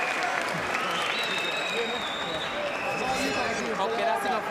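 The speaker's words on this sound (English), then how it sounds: "Crowd on their feet" A boxing crowd on its feet applauds steadily, a dense wash of clapping and cheering that continues throughout, with a voice talking over it.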